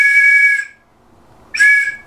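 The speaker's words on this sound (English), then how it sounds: "I got this whistle yesterday, and it sounds pretty cool." A handheld whistle gives two shrill, piercing blasts, the first about half a second long and the second shorter, with a quiet gap between them and no voices.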